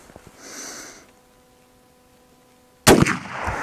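A Winchester Model 64 rifle fires a single loud, sharp shot at a jug sitting on a target stand outdoors, preceded by a few seconds of quiet ambient noise and a brief faint rustle.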